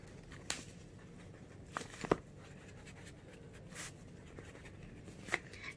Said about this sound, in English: Now you can also underline it with a different sketch pen like this.